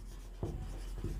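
Pen on paper during a math lesson: two short soft scratching strokes, faint and close, with no talk over them.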